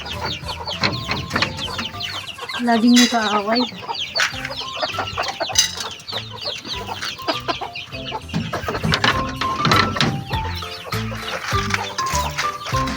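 Chickens clucking steadily close by, several birds overlapping, including a caged hen, with a brief spoken phrase mixed in.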